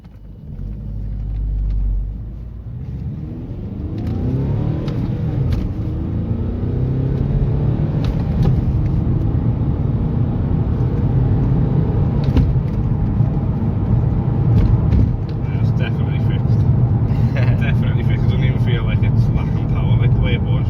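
A car being driven and accelerated after an inlet manifold repair, with the engine rumbling steadily and building under load as it pulls forward, heard from inside with a continuous low drone throughout.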